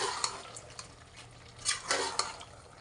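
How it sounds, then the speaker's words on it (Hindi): A spoon stirs chopped green chillies and ginger in a cooking pot for aloo gobhi, making quiet scraping strokes with a few brighter clinks and a faint sizzle, with no voices. "इनको मिक्स करेंगे।"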